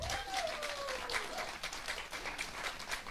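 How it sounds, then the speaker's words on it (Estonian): Audience applause fills a community meeting hall, a dense patter of many hands clapping steadily throughout, loud and continuous. "tormilise aplausi saatel, jätkuva aplausi saatel siis ka Arto Saar Järva-Jaani kogukonnast"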